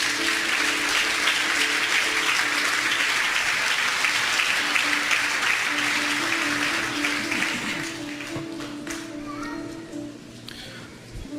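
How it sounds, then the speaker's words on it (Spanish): A church congregation at a Spanish-language service breaks into loud, sustained applause with some children's voices mixed in, the clapping thinning and fading toward the end as speech emerges. "Denle un fuerte aplauso al Señor."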